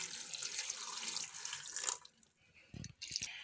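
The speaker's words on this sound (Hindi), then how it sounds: "अब मैं 3 कप पानी डाल देती हूँ।" Three cups of water are poured from a kitchen tap or vessel into a pot of bathua dal, a bright, splashing rush that stops abruptly, followed by a few quiet clinks and drips.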